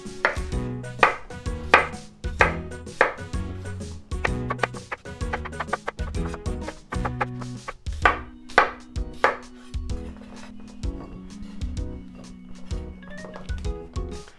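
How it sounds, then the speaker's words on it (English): Potatoes are being cut into bite-sized pieces on a cutting board for nikujaga, a Japanese home-cooked side dish, giving a steady run of sharp, close knife chops that slows into scattered single taps. "I'm going to cut these potatoes in bite-sized pieces"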